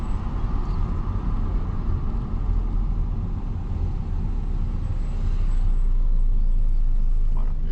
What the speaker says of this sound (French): Et laisser glisser ma voiture.